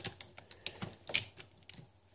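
Quiet, close clicking and tapping of a computer keyboard and mouse during a Minecraft session on a server, an irregular flurry of keystrokes with no voices.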